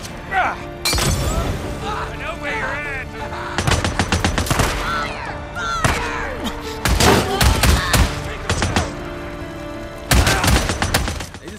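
Repeated gunfire bursts and shattering impacts from the video game Days Gone, loud and dense in several volleys, with someone shouting and talking excitedly over the shooting.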